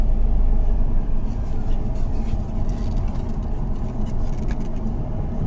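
A car engine rumbles loudly and steadily as the vehicle pulls over to the side of a broken road in Haryana, with a constant low drone and road noise throughout.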